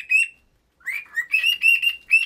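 A talking pet parrot, almost seven years old, gives a series of bright, close chirps and whistles in short rhythmic bursts, alone with no talk.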